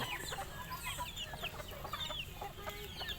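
A young Kelso rooster clucks and gives short crowing calls against a busy backdrop of other chickens and birds, steady and moderately close.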